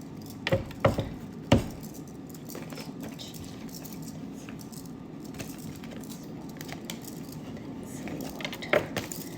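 Tarot cards being shuffled during a love reading, heard as a few soft papery flicks and riffles early on and again near the end, over low steady room noise with no talk.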